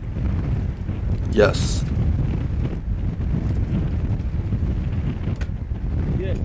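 Strong wind roars steadily across the microphone near the Liaohe River in northeast China, a constant buffeting rumble, while a voice speaks briefly.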